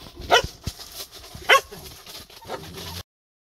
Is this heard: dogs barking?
yes